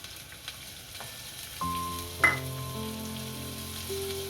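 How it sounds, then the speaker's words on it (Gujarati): Finely chopped onions hit hot oil in a pan for a green pigeon pea (tuvar) dish, setting off a sudden, steady close sizzle partway through that continues with a faint background hum. "આ કાંદા નાખશું ઝીણા સમારેલા"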